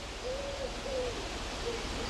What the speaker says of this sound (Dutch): dat was die houtduif met 5 lettergrepen in zijn zangetje